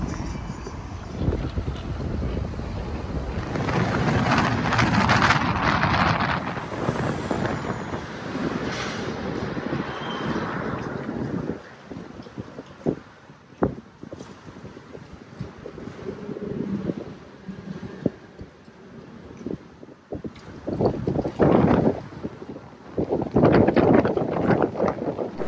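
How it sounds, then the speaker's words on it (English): A jet ski ride on the water near Bridge Marina, with a continuous rushing of engine, spray and heavy wind buffeting that swells loud, dips through the middle and surges again near the end, no talking. "I'll just go for a ride to make sure my boat's right for the weekend"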